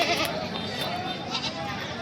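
Goats bleat in short bursts at the crowded Begampur goat market, close and fairly loud over a background of general crowd noise.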